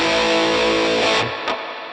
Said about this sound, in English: I'm going to select Spring Reverb, grab one of the defaults, and let's give it a listen